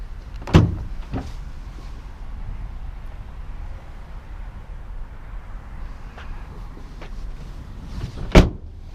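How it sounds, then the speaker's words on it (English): Tailgate release assist on a 2019 Ram 1500 Laramie pickup lowers the gate: a thump near the start, a quiet steady hum, then a sharp, loud clunk close to the end, with no talking. "This does have the tailgate release assist, which will just pop down the tailgate with the push of a button."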